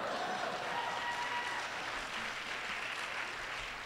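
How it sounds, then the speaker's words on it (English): An audience at a Class Day 2014 ceremony breaks into loud, sustained applause and cheering, a dense, steady wash of clapping that fills the whole stretch without pause. "someone is cheering about remote sensing data"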